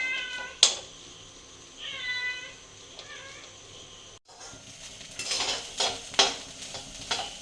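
A cat meows several times before clam meat (kakka) starts frying and is stirred in a pan, giving a close, rough scraping and sizzling that swells in repeated strokes.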